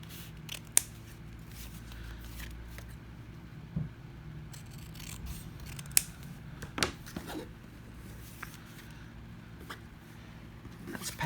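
Soft, sporadic snips of scissors trimming the ends off a folded paper envelope, with faint paper rustling and handling noises over a low steady hum.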